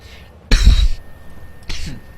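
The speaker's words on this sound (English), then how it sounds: "I hate coughing." One loud, sharp cough close to the microphone, followed a second later by a shorter, softer burst, heard during World of Tanks gameplay commentary with no talk over it.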